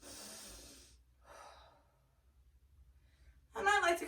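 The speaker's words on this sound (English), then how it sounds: "big breaths." Deep breaths drawn in and let out slowly while lying over a foam roller placed below the shoulder blades in a thoracic spine extension stretch, a soft close inhale and exhale followed by a louder, sharper breath at the end.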